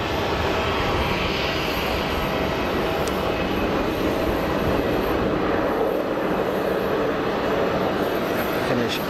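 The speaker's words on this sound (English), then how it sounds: "Finnish Embraer on the taxi" Finnish Embraer jet taxiing at Geneva Airport, a steady loud engine roar with a broad whine, constant and unbroken, heard from fairly close outdoors.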